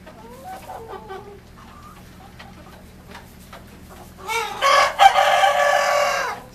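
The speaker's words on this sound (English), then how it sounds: "We have about 19 roosters and they're all starting to crow." Meat-breed roosters in a flock of about nineteen cluck and call softly at first, then one crows loudly and near, overlapping with other crowing and squawks over a steady background hum.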